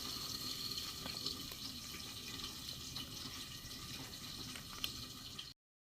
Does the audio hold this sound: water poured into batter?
yes